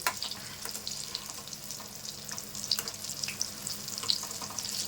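Vegetable bajji frying in oil on a medium flame, a continuous bright crackling sizzle with small popping bursts, close and steady, no talk.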